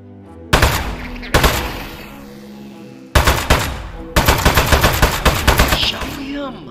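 Turret gunfire in Aperture Desk Job rips out in loud, rapid automatic bursts, several volleys separated by brief pauses, with sharp repeated shots close up and no talking.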